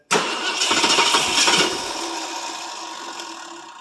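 A 1967 Ford LTD two-door's 390FE V8 fires up cold after sitting twelve years, a loud sudden catch followed by a rough, steady idle that slowly settles and fades slightly.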